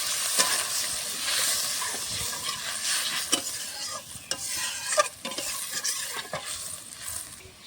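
Water poured into spice paste frying in a pan for a Bengali bata fish with poppy seed dish sets off a steady sizzle and hiss, punctuated by sharp spatters and scrapes of stirring, close up with no talking.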